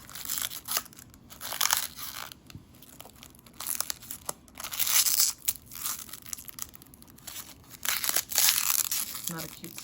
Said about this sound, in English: Take the plastic off the base.